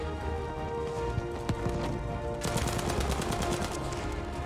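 Rapid bursts of automatic gunfire from Battlefield 5 combat, loud and continuous, with repeated sharp shots growing denser partway through.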